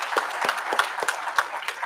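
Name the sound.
audience applauding the panelists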